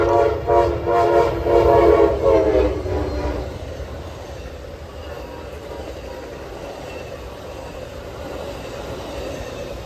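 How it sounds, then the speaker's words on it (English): Amtrak number 5 passes at Downers Grove, sounding a loud multi-tone horn for about three seconds, then the train rolls on in a steady rumble with faint wheel noise. "Our next train would be Amtrak number 5 with a mega-friendly engineer"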